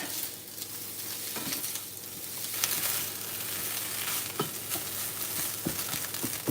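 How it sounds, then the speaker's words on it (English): Egg and shrimp fried rice sizzles on high heat in a pan, a dense continuous crackle with scattered sharper pops and occasional stirring scrapes, steady and close throughout. "Kind of want this on high heat because you want to fry the rice."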